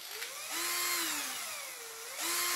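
A speed-controlled power drill whines up as the trigger is squeezed, its pitch rising, dipping and sliding as the speed changes, then spinning up again at the end; close and loud, with no talking.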